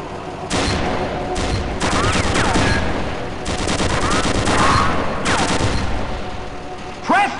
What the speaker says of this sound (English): Press your crouch key to fire the machine gun!